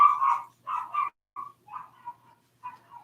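A dog barks in a string of short, sharp yaps and yelps, close and fairly loud, coming in uneven bursts separated by brief silences.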